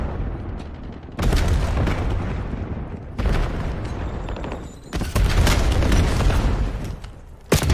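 Heavy booming blasts roll through a Call of Duty Black Ops 7 multiplayer match, several loud, dense explosions with a grenade among them, each followed by a sustained rumble and debris noise.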